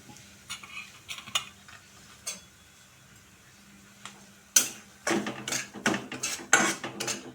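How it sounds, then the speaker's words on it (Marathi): Semolina roasting in ghee in a hot wok while being stirred: faint scraping and light metallic clinks at first, then a burst of louder, dense stirring scrapes in quick succession, close by, with no voices. "आता याच्यामध्ये मी रवा घालते रवा आपण छान भाजून घेऊया"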